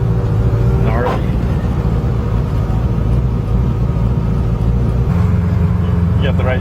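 A 1650 HP Mazda RX7 sleeper car accelerates hard in a sustained, loud engine roar heard from inside, with people talking over it and a shift in tone near the end.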